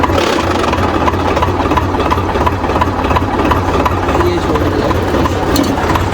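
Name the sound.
tractor engine running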